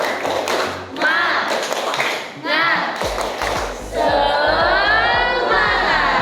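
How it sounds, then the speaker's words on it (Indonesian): A classroom of students performing a rhythmic spirit clap, sharp patterned claps in unison alternating with chanted group voices and a teacher's voice, loud and close. "Tepuk semangat."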